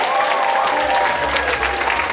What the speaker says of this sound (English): Give the actors one more round of applause.